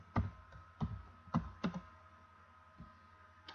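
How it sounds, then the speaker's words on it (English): A few scattered, soft key clacks on a computer keyboard as a user ID and password are typed, with short pauses between presses in a quiet room. "I'm going to type in my user ID. I'm going to type in my password."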